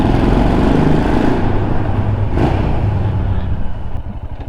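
A 2022 Royal Enfield Himalayan motorcycle rides along the road, its engine buried in a loud, steady roar of wind rush that eases slightly toward the end.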